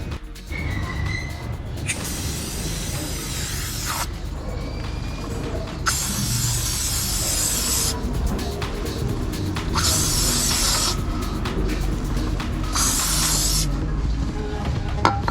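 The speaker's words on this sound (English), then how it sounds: "I will be applying the degreaser on this and will leave it for a while." Degreaser sprayed from a can onto the chain and parts of a BMW G310R motorcycle, with several bursts of hissing spray spaced a couple of seconds apart, close and loud over a steady background.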